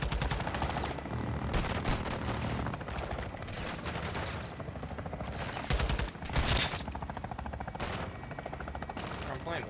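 Sustained automatic weapon fire in the video game Call of Duty Modern Warfare 2 rattles on almost continuously, with heavier bursts punching through a steady barrage of shots.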